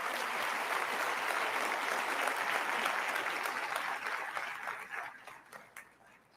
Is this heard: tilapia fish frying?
no